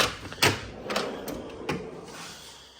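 A drawer on an old Snap-on tool chest slides open or shut, giving a few short metallic clunks and rattles, close and moderately loud, with no talking.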